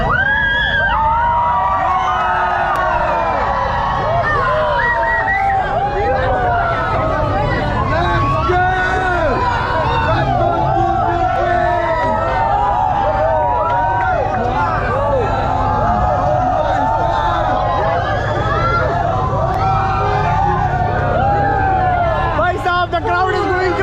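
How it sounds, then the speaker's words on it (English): Dense, excited crowd babble from people gathered around a formula car in Guwahati, many overlapping voices and shouts close by, continuous and loud throughout. "The crowd is going crazy!"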